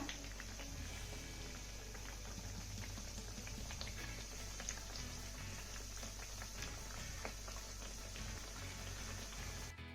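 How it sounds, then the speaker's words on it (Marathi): Pieces of wheat-flour dough frying in oil over a medium flame, a soft continuous bubbling crackle, fairly quiet and even, with no talking. "मीडियम फ्लेमवरती आपल्याला ह्या वड्या छान अशा सोनेरी रंगावरती तळून घ्यायच्या"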